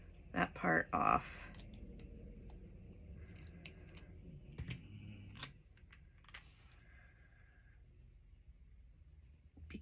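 Scissors snipping paper for an index card collage, a quick cluster of close crisp cuts at the start and a few more a few seconds later, then quiet handling noise.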